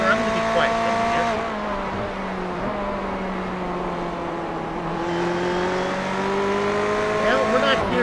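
Race car engine heard from the cockpit in iRacing at Watkins Glen, a steady loud drone with shifting pitch throughout, easing in the middle and rising again near the end.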